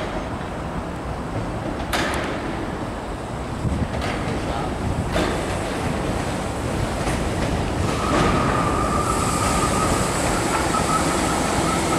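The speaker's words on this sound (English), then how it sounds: "320 coming in here. Basically trains here like in and out nearly every second." A Class 320 train pulls into a station on the Anglo-Scottish border, its steady rumble building over about twelve seconds with wheel clatter, a brief metallic squeal and a whining tone near the end, set against ambient station noise.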